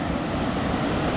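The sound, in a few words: waterfall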